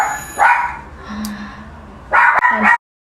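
A pet dog, a female, barks in two loud close bursts of yappy, vocal barking separated by a quieter pause.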